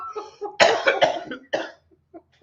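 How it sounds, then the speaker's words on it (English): A person coughs hard and close to the microphone, a cluster of harsh, rasping bursts followed by a few fainter throat sounds as it trails off. "Y'all done gave me the COVID cough."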